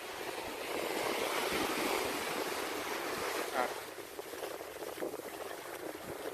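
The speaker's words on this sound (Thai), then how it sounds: "ทะเลกำลังจะซัดกลับมาเนี่ยครับ" Sea waves washing onto a beach fouled by an oil spill, a continuous loud surf roar with wind buffeting the microphone and faint voices in the background.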